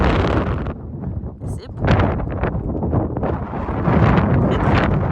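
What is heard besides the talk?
strong wind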